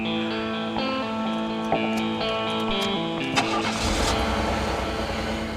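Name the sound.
car engine starting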